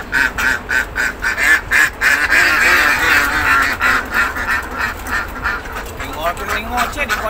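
Jeje laying ducks on a duck farm keep up a continuous chorus of quacking, a dense busy flock heard close with a person talking over it.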